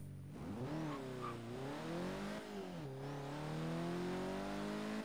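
A car launches hard in Forza Horizon 3, its engine revving and climbing through gear changes with a steady, loud whine that dips and rises again as it accelerates.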